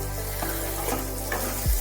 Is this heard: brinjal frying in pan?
yes